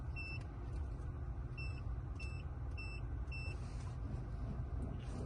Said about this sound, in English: Now you'll get a beep every 5 seconds. You're in code learning mode.